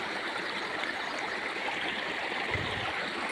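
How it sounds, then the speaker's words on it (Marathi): Water gushes from a farm channel as a steady, broadband rushing wash, moderately loud and unbroken, with a brief low thump near the end. "चांडव्यातून धडधडा पाणी वाहत आहे।"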